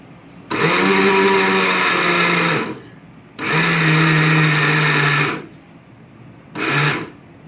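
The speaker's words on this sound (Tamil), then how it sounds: "வாங்க இப்போ நம்ம அரைக்கலாம்." Mixer grinder grinding black chickpeas, loud whirring motor in three bursts, two long and one short, separated by brief pauses.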